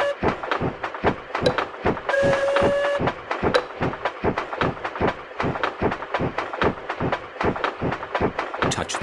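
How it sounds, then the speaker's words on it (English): A cartoon train in a Peppa Pig train ride game clatters along with a steady, evenly spaced clickety-clack rhythm, broken briefly by a high tonal whistle or horn. "Touch the green button to make the train go."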